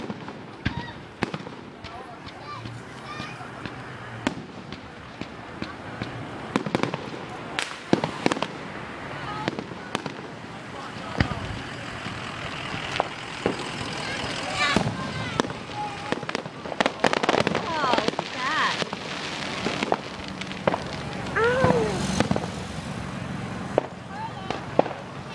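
Repeated fireworks bangs and crackles over Nebraska, some distant and some sharper, with people talking and cheering throughout.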